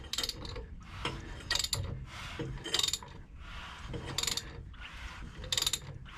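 The engine of a 1967 Ford Mustang is turned over by hand with a ratchet, sticking at a rough spot, producing a series of quiet, close ratcheting bursts at a fairly even rhythm, with no talk.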